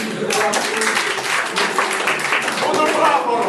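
Dense, steady crowd applause fills the room at a 2001 graduation event, sustained at even loudness throughout with no break.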